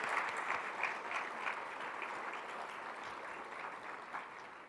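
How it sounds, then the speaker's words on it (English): Audience at the Washoe Impact Awards morning session gives one more round of applause for Kim and the day's speakers, a steady dense clapping that swells briefly at the start and holds at moderate level without talk. "Can we just give one more round of applause to Kim and our speakers today?"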